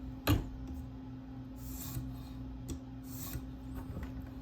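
A K390 steel Spyderco Delica blade is resharpened on a TSProf K03 guided sharpener, giving quiet rasping stone strokes, a sharp tick near the start and a few soft passes spaced about a second apart.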